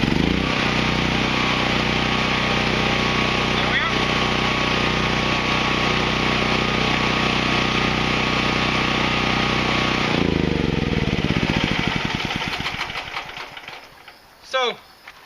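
A 13 HP 420cc gasoline generator engine runs loud and steady at close range after starting, its dense drone holding for about ten seconds before the pitch shifts and the engine winds down to a faint rattle near the end.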